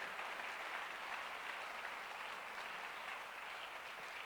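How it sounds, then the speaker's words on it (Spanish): A church congregation applauds steadily, a faint, even wash of many hands clapping at a distance, with no voices over it. "Dale un fuerte aplauso al Señor."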